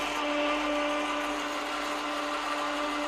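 A 9craft DBL2135 750W metal lathe runs with its automatic feed engaged, giving a steady, close mechanical whine with a constant tonal hum that holds unchanged throughout.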